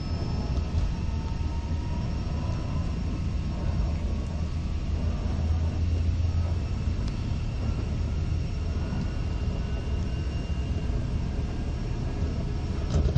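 Learjet 45XR twin jet engines at takeoff power during the takeoff roll, a loud steady broadband roar with a low rumble and faint whine, continuous throughout with no voices.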